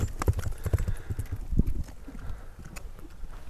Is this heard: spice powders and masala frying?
no